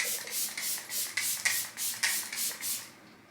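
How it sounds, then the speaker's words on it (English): Rare Beauty setting spray mists onto a face in a quick run of about nine short, airy pumps, each a bright close hiss, evenly spaced and heard alone. "Now I'm going to go in with the Rare Beauty setting spray."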